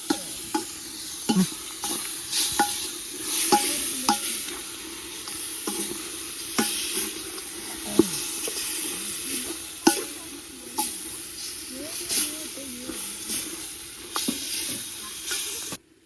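Biryani masala sizzles in a pot while a spoon stirs it, with repeated scraping strokes over a constant close hiss, for a Ramzan festival biryani, and no one speaking.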